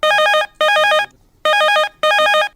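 Telephone ringing on a Chhattisgarhi folk song phone-in radio show, an electronic warbling ring in four evenly spaced bursts of about half a second each, loud and clear with short gaps and no talk.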